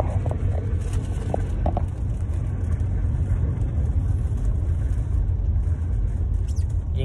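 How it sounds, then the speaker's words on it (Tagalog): Cars and buses move through a Jeddah street in heavy rain after strong winds, a continuous low rumble of engines and tyres on wet road under steady patter, with no talk. "Tingnan mo, nagka-traffic na oh."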